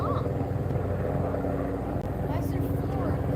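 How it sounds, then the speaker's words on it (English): Several military helicopters fly low over a lake, making a steady, heavy rotor rumble that fills the whole stretch, with people's voices faintly mixed in. "Sounds like a helicopter coming in pretty low."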